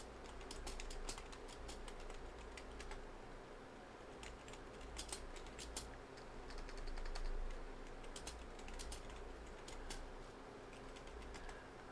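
Rapid, uneven keystrokes on a computer keyboard clatter in bursts through most of the stretch, fairly close and moderately loud, with no voices.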